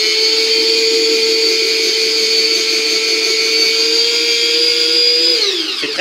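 Courgettes being grated by a food processor, a loud, steady, high-pitched motor whine with a grinding texture that holds evenly for several seconds, then dips as the machine winds down.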